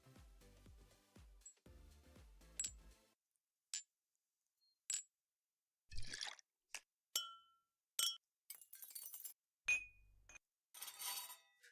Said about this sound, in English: Let's just try clink instead rather than glass clink, because those all sounds like glass.